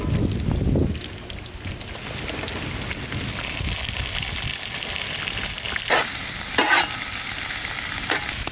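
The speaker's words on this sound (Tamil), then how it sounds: "வெங்காயம், குடமிளகா நெய்யில் சூப்பராக வதங்கி வந்துருச்சு." Onion and capsicum frying in ghee, a steady sizzle with occasional louder stirring scrapes and pops, close up and without voices.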